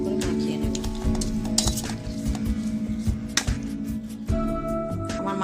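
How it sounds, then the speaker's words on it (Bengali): Pabda fish is worked with salt, chili and turmeric in a bowl, giving close, repeated clinks and knocks of the bowl and utensils over steady kitchen background noise. "এরপর আমি মাছটাকে ভালো করে মাখিয়ে নেব।"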